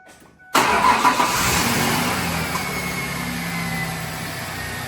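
A 2001 Ford Ranger 3.0 engine cranks and catches abruptly after a near-silent moment, then settles into a steady close idle that continues to the end.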